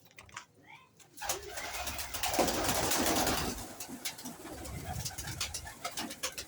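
Pet pigeons of an old breed coo and rustle close by, with soft cooing calls among faint background noise.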